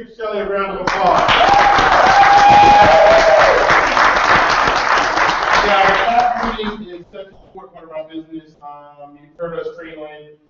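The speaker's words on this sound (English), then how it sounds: "Let's give Shelly a round of applause." Audience applause at a bootcamp training event, a loud sustained burst of clapping lasting about six seconds before fading, followed by a speaker talking.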